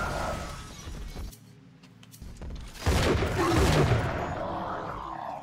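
Turrets opening fire in Bioshock 2, a burst of sharp, shattering gunfire swelling midway after a brief quiet stretch, close and loud, with faint talk underneath.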